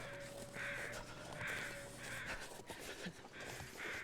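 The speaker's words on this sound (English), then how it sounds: "Oh, but I hear crows." Crows cawing in the survival video game The Long Dark, a series of harsh, rasping caws repeating at roughly even intervals, fairly clear against a quiet background.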